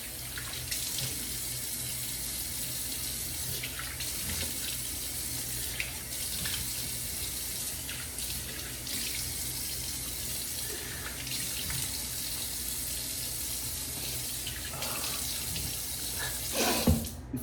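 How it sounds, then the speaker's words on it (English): Running tap water rinses off after a straight-razor shave with an Iwasaki kamisori, a steady close hiss of water into a sink with splashing changes as hands move through the stream, and no talking over it. "let me go ahead and rinse off a little bit."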